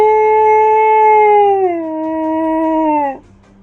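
A werewolf in the game Choices: Nightbound lets out one long, loud howl toward the sky. The tone sags lower partway through, holds for about three seconds and then breaks off abruptly, with no other sound around it.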